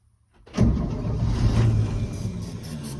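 An old pickup truck engine, sitting unused for several years, cranks and catches about half a second in, then settles into a loud, rough, steady running rumble.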